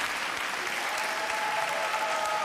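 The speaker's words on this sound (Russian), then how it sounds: "слышите, какие овации?" Studio audience applause and ovation on a Russian TV show, a dense sustained burst of clapping from a large crowd that holds steady and loud throughout.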